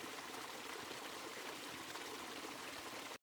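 A waterfall sends water cascading down in a steady, dense rush. The roar is loud and close, holds constant throughout, and has no voices over it.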